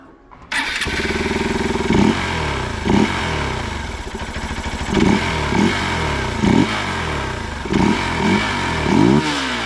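Hero Xpulse 200 4V motorcycle fitted with a Uni power filter, firing up after a brief crank and then idling with a steady thumping beat, with several short throttle blips, loud and close.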